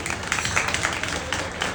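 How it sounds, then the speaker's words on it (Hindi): An audience at a religious gathering claps briefly, a dense patter of hands at steady volume. "सब ताली बजाओ"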